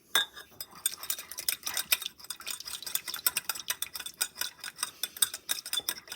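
A spoon stirring melted white chocolate in a mug, giving rapid, irregular clinks and scrapes in steady bursts, close and fairly quiet, with no voices.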